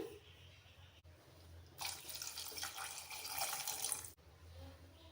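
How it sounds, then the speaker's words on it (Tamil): About half a litre of water pours steadily into a cooking pot for a couple of seconds, a bright splashing rush that starts and stops abruptly amid quiet room sounds. "தண்ணி வந்து ஒரு அரை லிட்டர் அளவு நான் சேர்த்துக்கிறேன்"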